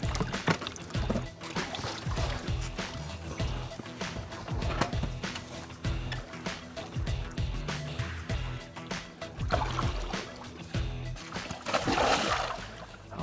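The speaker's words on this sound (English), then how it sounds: "let's put a little bit of water in this bucket" Lake water scooped and poured into a bucket by a boat on Nolin Lake, a series of close splashes and trickles with intermittent knocks and handling noise throughout.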